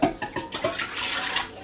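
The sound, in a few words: pouring water into Ninja Foodi Deluxe pot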